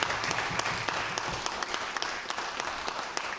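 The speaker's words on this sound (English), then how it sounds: "give them a round warm of applause and welcome to the legislature" Applause in a provincial legislature chamber welcomes guests in the gallery, a dense, steady patter of many hands clapping at moderate distance for several seconds with no voices over it.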